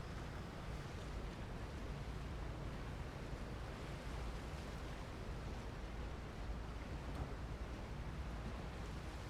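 A boat moves across open water in PUBG, a constant broad wash of surf and wind noise that stays even and steady throughout with no voices.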